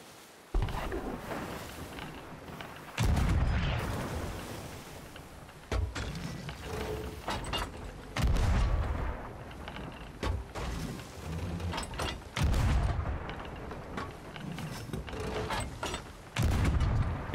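Ship cannon fire in the pirate video game Sea of Thieves, several heavy booms spaced a few seconds apart amid creaking mechanisms and splashing, loud and close.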